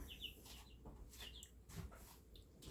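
Two black chickens clucking softly, a few short, faint clucks and chirps scattered over a quiet, low background with no one talking.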